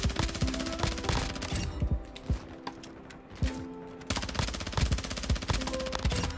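SMG gunfire in Modern Warfare 2, loud rapid automatic bursts crackling almost continuously with brief pauses between strings, close and dominant over other game sounds.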